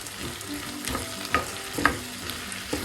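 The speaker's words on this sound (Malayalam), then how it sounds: "കാൽ ടീസ്പൂൺ ജീരകത്തിൻ്റെ പൊടി ചേർക്കുക അത് ആ എണ്ണയിലൊന്ന് മൂക്കട്ടെ" Ground cumin sizzles in hot oil with a steady, soft frying hiss, broken by a few sharp spoon taps and scrapes against the pan; no voices.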